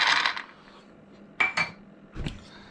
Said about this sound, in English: I'm just gonna also put in a third of a cup of almonds